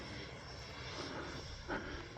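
A radio-controlled model fighter jet flies overhead, its engine making a steady, fairly loud whooshing drone that carries on through the whole stretch and swells briefly toward the end.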